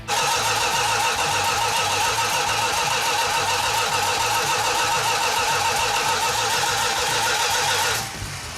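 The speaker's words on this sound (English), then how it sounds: "Just kept cranking on it, and eventually it leaned out and fired right up and ran good." A 440 Six Pack car engine cranks continuously with a rapid, even starter rhythm, loud and close, until it catches near the end and the sound drops to a lower running note.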